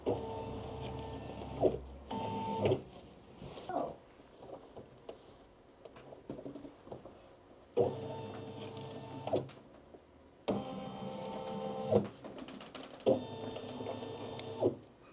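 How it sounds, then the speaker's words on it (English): A Brother SE1900 single-needle embroidery machine stitches a design onto an apron, running in several steady mechanical bursts with short pauses between them, close and fairly loud with no talking. "And then we're going to start to embroider."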